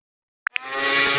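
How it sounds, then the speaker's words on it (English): Blender weapon effect in the BattleFruit video game: two quick clicks, then a motor whirring up to a loud steady buzzing spin. "Major uses blender and hits ice cube at B1."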